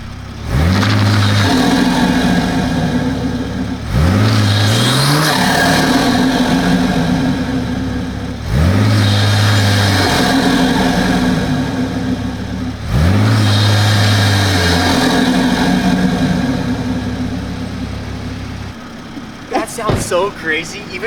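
A turbocharged car sits in launch control, its engine revving hard four times in long, loud holds to build boost, each pull rising then dropping back. A short pause and rustle follow at the end.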